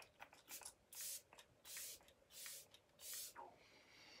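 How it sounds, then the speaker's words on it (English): A mint-scented makeup setting spray mists onto the face in four or five quick, close pumps with short gaps between them, each a soft airy hiss, with faint rustling around them and no talking. "So I'm gonna just give this a little spray."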